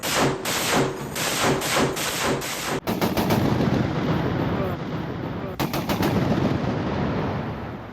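A Browning M2 heavy machine gun fires in long rapid bursts, loud and close, with brief pauses between strings of shots.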